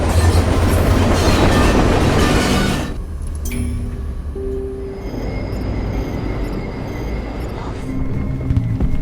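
A train rolls along rails in a zombie film scene set in Raccoon City, a loud rumbling roar that eases after a few seconds into steadier clattering with faint squealing tones, and no voices are heard.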